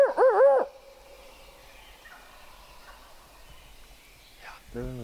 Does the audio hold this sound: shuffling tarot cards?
no